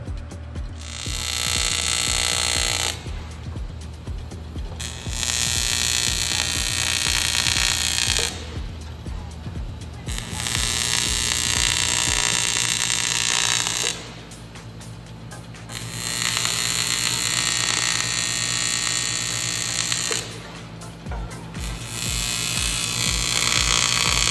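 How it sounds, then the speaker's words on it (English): A steel fuel tank for a junkyard Jeep is welded in short stitches. Four long, loud crackling buzz bursts are separated by brief pauses, heard up close with no talking. "I like to weld it every little bit like that"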